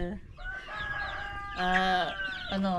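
A Dekalb Brown rooster crows loudly and near among clucking chickens on a Pangasinan farm, with two long harmonic crows rising over steady hen chatter.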